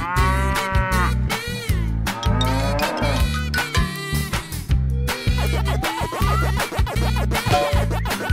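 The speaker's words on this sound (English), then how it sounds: "Cow." A cow moos several times, loud and drawn-out, over a rhythmic musical backing in a children's animal cartoon.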